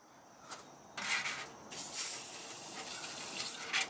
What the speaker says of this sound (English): I'm going to spray him some WD-40